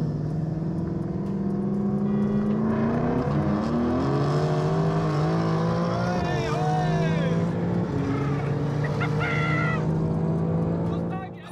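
A BMW M3 G80 pulls hard in second gear, its engine note climbing loud and steady through the revs with shifting tones, while a voice speaks briefly over the roar.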